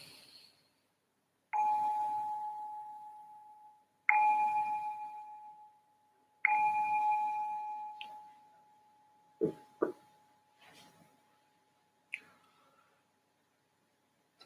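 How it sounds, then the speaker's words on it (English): A meditation bell rings three times at slow, even intervals, each clear metallic tone sustaining and fading before the next, followed by a few faint soft knocks and rustles in an otherwise quiet room. "I'll ring the bell to signal the start of this session"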